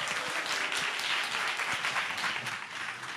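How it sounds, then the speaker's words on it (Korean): A dense, continuous wash of audience applause fills a lecture hall at the end of a talk on protein and health, loud and steady throughout before easing slightly at the close. "큰 박수 부탁드립니다"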